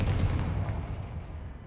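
A Confringo fire curse explodes in the video game Hogwarts Legacy. It starts as a loud, booming blast and rolls off into a long, low rumble that fades over about a second and a half, with no voices.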